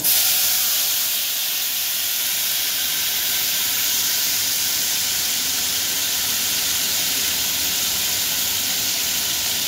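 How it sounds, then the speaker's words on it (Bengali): Hot water is poured into a hot cooking pan holding a green chilli for a fish curry, giving a loud, continuous steamy hiss that stays steady for the whole stretch with no talking. "সামান্য পরিমাণ গরম জল দিয়ে দিলাম।"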